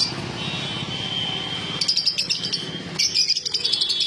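Cockatiels, including white cockatiels, and lovebirds chirp in a bird shop, starting as a faint background twitter and breaking into louder, rapid bursts of close, shrill calls in the second half.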